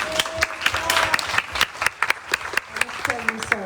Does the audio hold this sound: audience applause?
yes